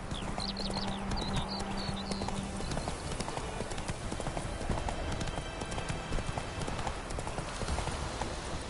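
Roach, the horse in The Witcher 3, gallops in a fast, steady clip-clop of hooves, close and continuous, over game ambience with faint bird chirps early on.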